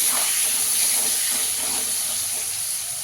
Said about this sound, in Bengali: দিয়ে আলুটাকে লাল লাল করে একটু ভেজে নেবো।